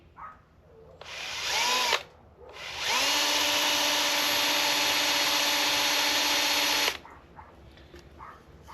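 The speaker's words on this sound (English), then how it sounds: "I'm gonna drill a little pilot hole" Power drill boring a small pilot hole in a car's removed pedal: a short whine at about one second, a pause, then a sustained high steady spin for roughly four seconds before stopping, close and loud.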